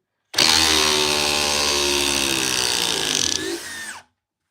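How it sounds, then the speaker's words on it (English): A Milwaukee Surge Gen 2 impact driver backs out an 8-inch TimberLOK screw in one sustained, loud motor whir with a steady hum. It changes pitch near the end and then cuts off sharply. "We're taking out an 8-inch timber lock here."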